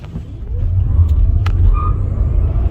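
A 2024 MG4 Standard electric hatchback pulls away hard from a standstill, giving a steady low road and motor rumble that builds and holds throughout, with faint tire and wind noise and no talking.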